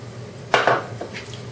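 A spoon clinks and scrapes against a metal pot a few times while stirring Maharashtrian chicken curry, close and fairly soft, a brief stirring of food.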